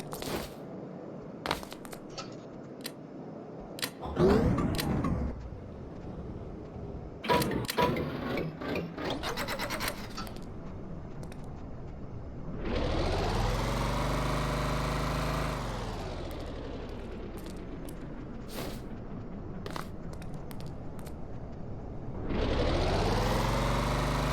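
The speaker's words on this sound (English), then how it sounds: "Just gonna test the concepts of my engine." A custom-built engine in Stormworks: Build and Rescue starts up after scattered clicks and mechanical rattles, then drones in two long sustained runs with a rising and falling pitch, loud and close, with no talking.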